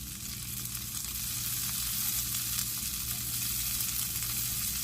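Asparagus spears dropped into a skillet of garlic butter sizzle in a steady, close, even hiss that holds unbroken throughout, with no speech.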